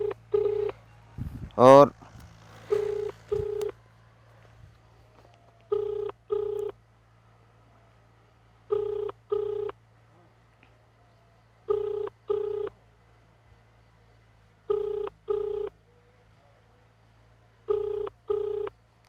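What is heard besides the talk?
telephone dialing and ringing on a call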